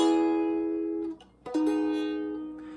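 Chord strummed on a cigar box guitar, ringing out and fading, then a second strum sustaining clearly alone without any voice.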